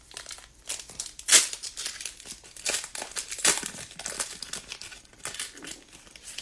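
A Prizm basketball card pack wrapper being crinkled and torn open, close and continuous crackling plastic with a few sharper tearing bursts, heard alone without talk.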